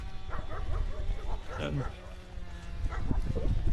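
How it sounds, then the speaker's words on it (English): Dogs bark in the distance along a European cycling route, several scattered barks and yips mixed with outdoor noise while someone talks over them. "barking dogs"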